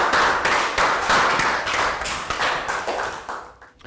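A small group in a classroom gives a round of applause, brisk uneven hand claps close and fairly loud, thinning out and fading by the end.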